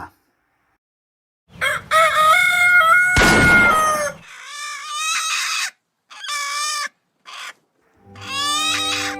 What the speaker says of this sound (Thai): เสียงนั้นทำให้นิรนามตื่นขึ้นมาด้วยความไม่พอใจ พร้อมกับปาหินไปที่ไก่ตัวนั้น